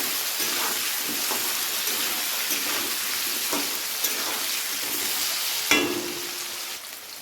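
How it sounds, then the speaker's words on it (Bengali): Potatoes and drumsticks stir-frying in a pan with a little salt, giving a steady close sizzle with a few faint stirring scrapes and one sharper clack near the end. "তো হালকা আলু আর সজনে ডাঁটা নেড়ে চেড়ে ভেজে নিয়েছি"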